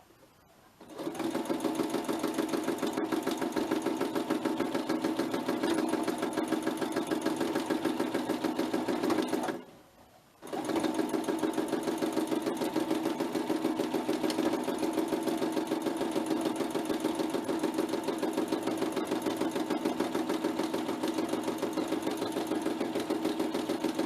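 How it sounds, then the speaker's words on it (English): A sewing machine doing free motion sewing, with a steady fast stitching whir that runs continuously, pauses briefly for about a second, then resumes at the same even pace, close and clear with no talk. "pop your needle back down again, and you can just start sewing"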